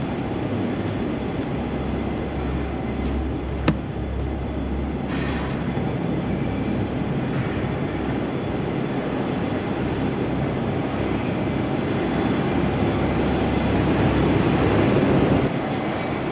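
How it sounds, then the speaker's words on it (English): Barn exhaust fans running together, with about eight of ten switched on. They make a loud, steady broadband whoosh and drone that continues without break, with a brief click partway through. "we're just going to turn on the rest of the exhaust fans"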